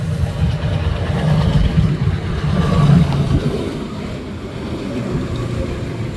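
Rain falls at Hyndland Station while a train rumbles steadily nearby, a broad, continuous low roar with no voices.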